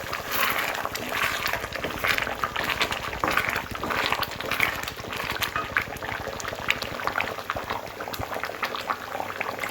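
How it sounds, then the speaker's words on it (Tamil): Thick fish curry bubbles and pops continuously at a steady simmer in a covered pot, a close, even burbling with no talking. "மூடி வச்சு 3 to 4 மினிட்ஸ் நல்லா கொதிக்க விட்டதுக்கப்புறம் இப்படி தான் இருக்கும்."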